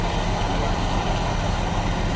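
Fire tanker trucks at a large city fire in Raipur give off a steady, close, low diesel rumble that holds without a break for the whole moment.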